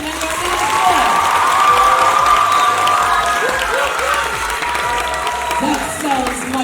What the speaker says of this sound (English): I want your applause to sound more like patois.